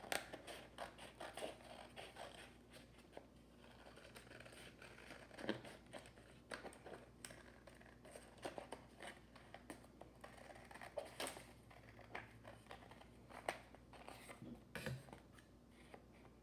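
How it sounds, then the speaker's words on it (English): Scissors cutting through black paper held together with a paper superhero cutout, repeated soft snips and crinkles at an irregular rhythm, close and quiet, with no speech. "you're going to cut them out at the same time with your scissors"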